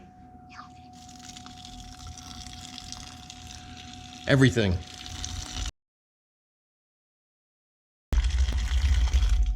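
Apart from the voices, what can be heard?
water poured into pot of bones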